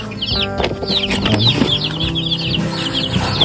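A flock of hungry broiler chickens clucks and chirps busily up close, overlapping calls continuing without pause.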